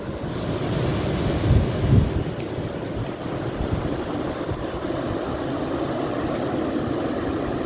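Sea waves washing onto a shore, heard as a steady broadband roar with rolling low rumbles and wind buffeting the microphone throughout, no voices.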